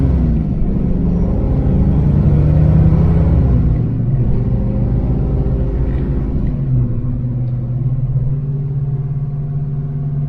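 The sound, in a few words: Foxbody car cruising in third gear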